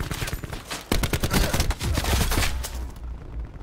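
Rapid gunfire in Call of Duty: Black Ops 4 private beta multiplayer, a dense volley of overlapping shots lasting about three seconds before cutting off.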